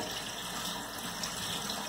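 Tap water runs steadily into a kitchen sink while a catfish is rinsed under it, a constant broad splashing hiss with no pauses, close and fairly loud.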